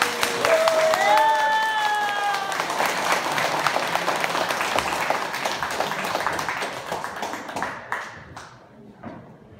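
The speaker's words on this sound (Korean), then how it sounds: "우리 교수님 나오실 때 뜨거운 환영의 박수 부탁드리겠습니다" Audience applause greets a professor arriving to give a lecture in Chicago, a loud, steady wash of clapping from a crowd that gradually thins and fades toward the end, with brief voices underneath.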